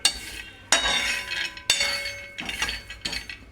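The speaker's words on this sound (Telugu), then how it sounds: "పల్లీలు దోశ చేద్దామని కొంచెం పల్లీలు వేపుతున్నాను" Peanuts being dry-roasted in a pan and stirred, a series of sharp metallic scrapes and rattling clinks in bursts of a second or so, close and fairly loud.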